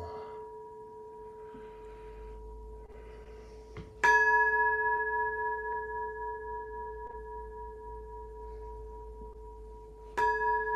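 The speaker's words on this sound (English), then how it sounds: "The sound of the temple bell." A temple bell is struck twice, each strike ringing out clearly and then sustaining in a long, slowly fading metallic hum in a quiet setting.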